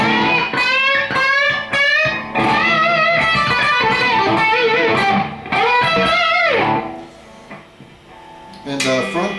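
Loud electric guitar through EMG P90 and 89X pickups with heavy, saturated distortion playing sustained chords and bends, with a brief dip in the middle before ringing out again.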